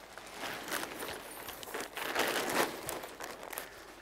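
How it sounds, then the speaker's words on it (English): A Gelert Horizon tent's fabric fly sheet being folded on the ground, giving a steady close crinkling and rustling that swells and fades in soft waves, with no talking. "Then fold one side into the centre"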